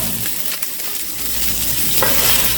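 Carnitas meat sizzling a la plancha on a hot oiled grill, a steady close frying hiss with faint stirring, no talk.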